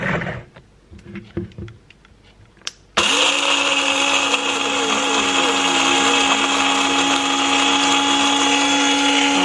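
A few quiet clinks and rustles, then a blender roars to life grinding flour, running loud and steady, a high motor whine over coarse grinding.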